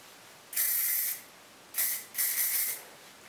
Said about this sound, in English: Now spray all of the curls with the hairspray all over